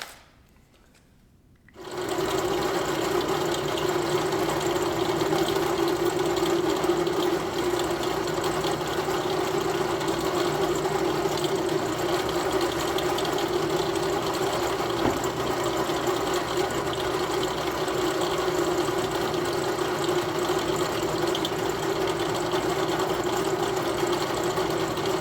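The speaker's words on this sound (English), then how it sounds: "I'm going to drill and countersink the 6 holes" A power drill runs steadily, drilling and countersinking six holes in wood for flathead wood screws; it makes a continuous, even motor whine close by that starts after a brief quiet moment and holds for over twenty seconds.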